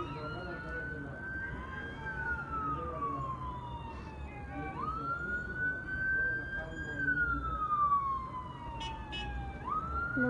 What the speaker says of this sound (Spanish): Viene una patrulla.